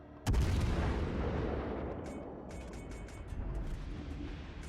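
A heavy booming salvo from the Hindenburg cruiser's turrets in World of Warships Legends, one loud blast followed by a long rolling decay and faint later shots.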